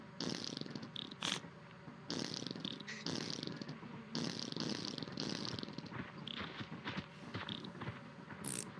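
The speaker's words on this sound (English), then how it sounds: "It makes a fart noise." A whoopee cushion in a video game lets out a series of faint, buzzy fart noises in several bursts of varying length, spaced irregularly with short gaps between them.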